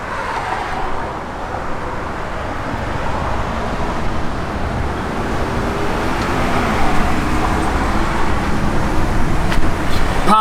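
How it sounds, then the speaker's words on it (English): A 1969 Chevrolet Camaro RS with a Flowmaster dual exhaust idles steadily, a low continuous rumble that swells slightly toward the end against a broad outdoor wash. "Got a good sounding Flowmaster dual exhaust system on it."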